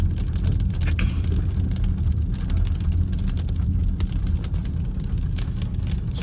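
Rain pattering on a moving car in misty countryside, a continuous close spatter over a steady low road rumble, with no talk.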